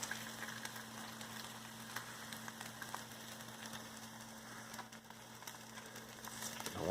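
An egg fries in a pan beside Spam, a soft continuous sizzle with faint crackles and pops, quiet and steady for several seconds with no voices.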